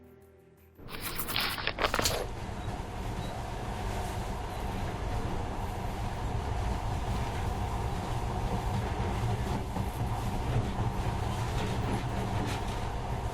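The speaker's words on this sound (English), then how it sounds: "But now, this monorail seems magic, doesn't it?" A monorail train runs steadily in the game Metro Last Light Redux, a continuous loud rumbling roll with rail clatter that swells in after a brief sharp onset and holds without break.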